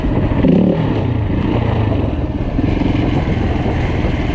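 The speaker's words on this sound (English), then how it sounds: "Doesn't seem super happy revving, but doesn't seem super happy too low either" A KTM 690 Rally motorcycle engine revs at close range in low, flat pulses, with its loud rumble holding steady and briefly swelling, with no voices.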